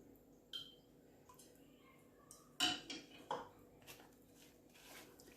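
Spoon mixing cooled oil in a pot, with sparse scrapes and a few sharp metallic clinks and taps against the sides over a quiet background.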